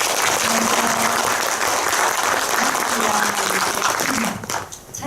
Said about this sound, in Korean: 큰 박수로 보여드리겠습니다.